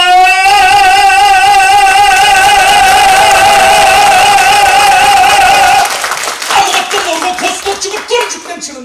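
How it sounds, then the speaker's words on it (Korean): A singer holds a long sustained note at a healing concert in a university library lecture hall, then the audience bursts into loud applause and cheering that carries to the end. "그때 박수 치고 함성 치는 타임입니다."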